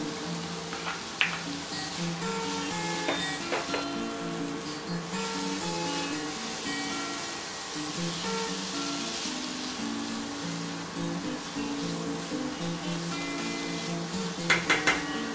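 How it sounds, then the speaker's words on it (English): Green capsicum pieces are tipped into a pan of quinoa khichdi with tomato, carrots and beans, giving a steady low sizzle with scattered clinks of a spoon against the pan, close and moderately loud, with no talking. "Now to this I will add, this is green capsicum, so I'll add the capsicum."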